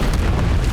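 A Bombarda spell explosion in Hogwarts Legacy on Nintendo Switch, heard as a dense, sustained rumbling blast with heavy low-end boom that holds steady for under a second without pause.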